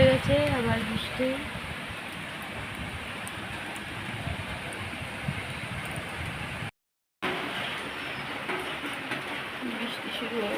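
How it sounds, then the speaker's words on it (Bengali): Steady rain falling outdoors as a monsoon shower begins, a constant soft hiss throughout with a short break midway, fairly quiet and even. "বৃষ্টি শুরু হয়ে গেছে"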